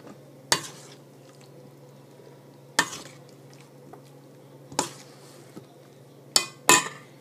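Spoon scraping and tapping against a dish while mango salsa is spooned onto swordfish, several sharp clinks spaced seconds apart over a low steady kitchen hum.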